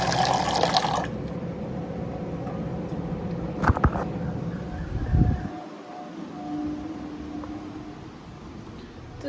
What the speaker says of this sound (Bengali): দাঁড়াও জলটা নিয়ে নিই।